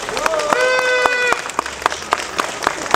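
A crowd picketing in defence of garages outside Ternopil city hall claps in scattered, uneven bursts, while a sustained wavering tone rings over the first half and voices talk throughout.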